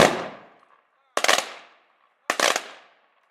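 Three ceremonial rifle volleys ring out at an outdoor D-Day commemoration ceremony in Orland Park, each a loud sharp crack of several rifles firing together that echoes away, spaced about a second apart.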